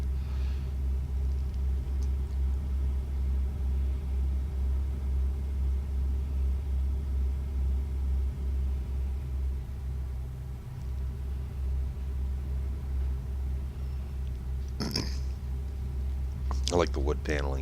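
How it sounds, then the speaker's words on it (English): A Peterbilt truck in a trucking video game hums along the road with a low, steady engine rumble, while someone talks over it near the end. "I do like the way this truck drives."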